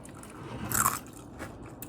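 Crunchy food bitten and chewed during a mukbang meal with rice, one crisp crunching bite standing out near the middle over a faint, quiet background.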